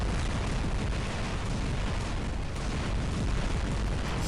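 Robot weapons fire and explode in the War Robots game as a dense, continuous barrage of booms and blasts, loud and unbroken for several seconds.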